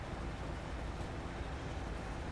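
A local freight train rolls through rail yards in the Train Sim Pro USA game: a steady, dense low rumble of wheels and cars, fairly quiet and unbroken throughout, with no talk.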